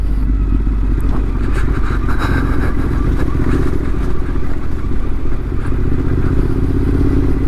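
A Yamaha T7 adventure motorcycle ridden off-road on a rutted trail, its engine rumbling loud and steady throughout, with rattles and scrapes from the bike and terrain mixed in.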